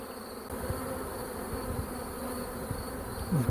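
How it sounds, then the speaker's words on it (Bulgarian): Honey bee swarm buzzing during a swarm capture on St. George's Day, a dense steady drone of many bees filling the air from start to finish, with a few louder passes of single bees near the microphone. "Тук има още пчели."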